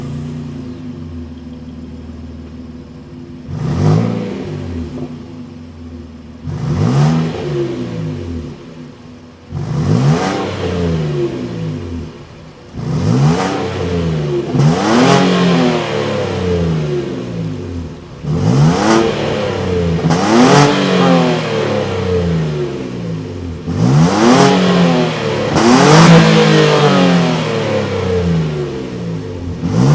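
Naturally aspirated 3.8-liter V6 in a 2026 Nissan Frontier Pro-4X pickup being revved repeatedly from idle, about nine loud, close throttle blips that each rise and fall, separated by a steady idle rumble, with no talk.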